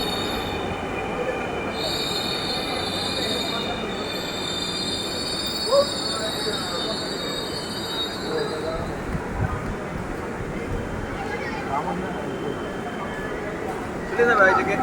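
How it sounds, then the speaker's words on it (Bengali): An electric metro train slows down and stops at a station, its wheels squealing steadily over a rumbling rail drone, with a voice talking over it. "একটি ট্রেন ধীরে ধীরে তার গতি কমিয়ে স্টেশনে"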